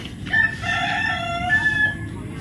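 A rooster crows once in a drawn-out call, with other chickens faintly clucking and murmuring underneath.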